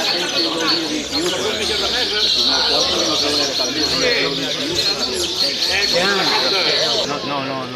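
Caged birds chirp and trill continuously at a bird festival in Torelló. The busy, overlapping song sits close and fairly loud, with people talking underneath.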